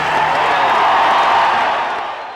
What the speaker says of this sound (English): now listen, the applause won't stop